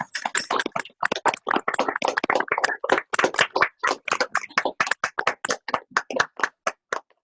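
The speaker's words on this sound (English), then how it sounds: "So maybe we can unmute for a second and have a little applause for our faculty." Sharp, dense hand claps from an awards-ceremony audience over a Zoom call, a fast, steady run of close, loud claps with no speech.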